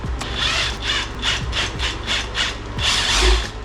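A wrench turning a new lock nut on a Buick suspension: a run of rough, scraping ratchet-like strokes repeating about twice a second, close and fairly loud, with no talking.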